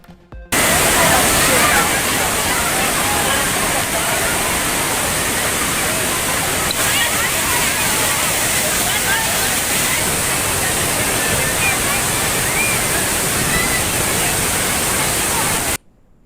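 Waterfall at Kodiveri dam near Gobichettipalayam in Erode, a steady, loud, continuous roar of rushing water that holds evenly throughout with no break.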